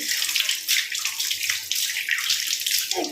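Water splashes and swishes steadily as rice infested with small insects is rinsed by hand in a kitchen, a continuous close wash with no talking.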